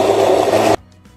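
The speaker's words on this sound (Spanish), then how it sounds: "Vamos a tapar esta preparación y vamos a empezar a licuar." Blender whirring loudly and steadily as it purées a covered broth mixture for an Argentine Christmas recipe, then cutting off abruptly into near silence.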